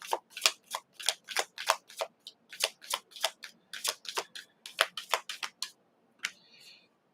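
Tarot cards being shuffled by hand, a quick run of crisp riffling snaps in an irregular rhythm, close and quiet, ending with a softer rustle.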